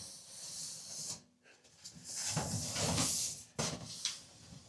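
The lid and door of a stainless steel enclosed cat litter box are handled up close, giving quiet sliding scrapes, hissy rubbing and a couple of sharp knocks of metal parts, with no talking.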